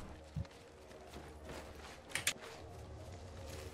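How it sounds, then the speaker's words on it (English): Quick game footsteps in Apex Legends thud faintly under a low ambient bed, with a sharper clatter of steps around the middle. "Yeah, I heard the footstep."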